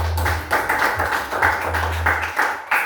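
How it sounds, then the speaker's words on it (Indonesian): Classroom applause for a student group at an Indonesian elementary school, quick bursts of clapping in a few uneven surges over a low hum, fairly close and moderately loud. "kita tepuk tangan sekali lagi untuk kelompok hebat"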